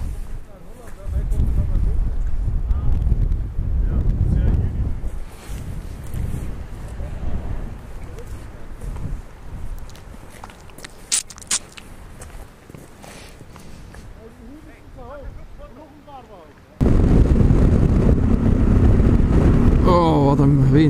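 Strong, cold wind buffets the microphone in low rumbling gusts during a motorcycle trip in Norway, with a sudden louder burst near the end; a voice speaks briefly amid the roar.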